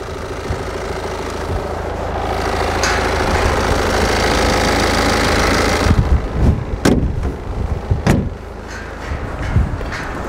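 A car at a used-car dealership idles with its bonnet open, giving off a steady close engine rumble for about six seconds. Several sharp metallic clunks and knocks follow over the quieter running engine.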